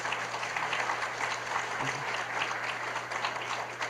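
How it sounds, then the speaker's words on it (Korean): Audience applause at a regional Democratic Party political academy lecture in Gyeongnam, a dense, steady clapping that fills the room evenly without a break. "박수 보내주시기 바랍니다."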